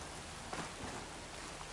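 Rain in the Horizon Forbidden West video game forms a faint, continuous hiss of falling drops with a slight low rumble, soft and steady throughout.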